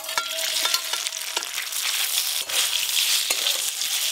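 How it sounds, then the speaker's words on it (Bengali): Paneer pieces fry in hot oil in a pan, giving a continuous bright sizzle with occasional spatters and scraping taps from stirring. No one speaks over it. "এই পনিরগুলো ভালো করে ভাজা হয়ে গেল"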